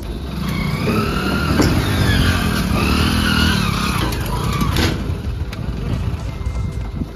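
Vehicle pulled out and driven off at a historic site, a loud close engine revving and rising in pitch over several seconds before settling, with faint voices nearby.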